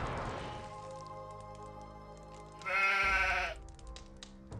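A sheep in the Gothic video game gives a loud, wavering bleat near the middle, over a quieter background of game sounds and music.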